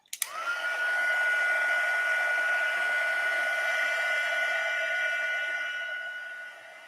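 A heat tool blows hot air to set embossing powder on a card: a steady whirring drone with a clear fan whine starts with a click and runs for several seconds before easing off slightly, close and alone.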